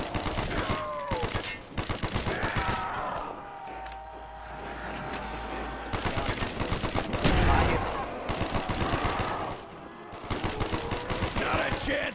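M16 rifle fire in Call of Duty: Black Ops co-op zombies mode, dense loud bursts of gunshots under game music and effects, with a pause midway before firing resumes.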